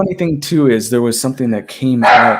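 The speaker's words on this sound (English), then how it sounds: "Sorry about the dog." A small, excitable dog barks and yips in short bursts indoors, close by and fairly loud, mixed in with a person talking over it.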